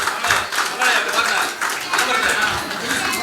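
Audience at a school reunion clapping in a burst of applause, dense irregular hand claps rising and falling over the whole span, with a voice speaking over it.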